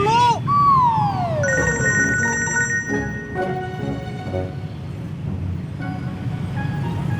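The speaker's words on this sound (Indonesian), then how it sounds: "Sekarang mau angkat telepon dulu." A phone ringtone plays loudly, a melodic ringing pattern that repeats over steady background noise, with faint voices underneath.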